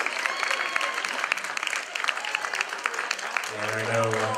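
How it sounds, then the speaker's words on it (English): Applause and crowd noise fill the room, steady clapping from many hands with a low hum rising near the end. "How about a nice round of applause to Sharon's parents?"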